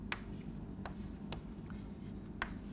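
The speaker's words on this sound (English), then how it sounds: "I want to write down one or two lines" Chalk or marker tapping and scratching on a board during a physics lesson, a few sharp separate strokes over a low room hum.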